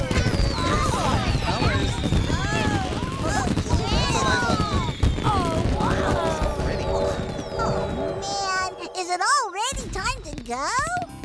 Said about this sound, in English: Now comes my very favorite part of the festival. Oh? Mine too. What's that? Fireworks!